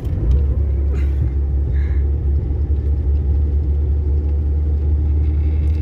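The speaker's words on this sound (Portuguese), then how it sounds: "Vai, acelera o carro e põe em terceira." A car engine hums as a low, steady rumble while someone learns to drive, accelerating and being coached through gear changes from third down to second; the drone stays continuous and close throughout, with no clear gearshift break.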